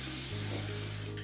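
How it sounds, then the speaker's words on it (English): Cooking oil spray hisses steadily and close over muffin tins for a single continuous burst, set against a low kitchen hum with no talking. "I'm gonna spray it with an oil so any drippings I get around the side on the edges here"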